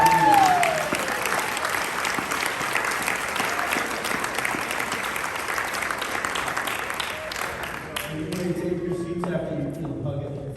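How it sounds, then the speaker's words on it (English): Sustained applause from a large audience at a chamber of commerce gala, steady and loud, then tapering off near the end as a voice begins. "Give all of them another round of applause."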